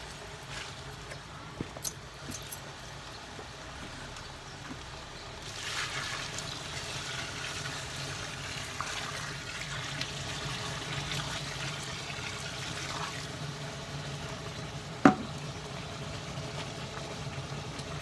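Water trickles and splashes steadily into a hot-mixed mortar mix in a container, with a low background hum and one sharp knock near the end.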